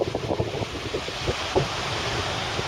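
Atlantic Ocean surf near Cape Town, with Robben Island and Table Mountain in view, rolls in as a steady broadband wash mixed with wind buffeting the microphone, with a few louder splashes standing out over about three seconds.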